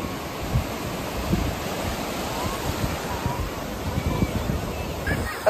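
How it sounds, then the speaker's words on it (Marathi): Rough, churning sea waves at Arnala beach roar as a broad wash of surf with wind buffeting the microphone, steady and fairly loud with a few swelling surges, no voices clearly heard. "तर गाईज लाटा खवललेले आहेत."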